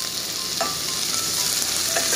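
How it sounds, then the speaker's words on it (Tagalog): Garlic stirred in a pan for ginataang sitaw, a steady close sizzle with faint scraping strokes of a utensil and no talk. "Sunod naman natin ang bawang. Halo-halo uli."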